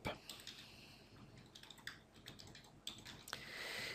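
Keystrokes on a computer keyboard as a title is typed into video editing software, a quick irregular run of close clicks and taps with brief pauses, heard alone.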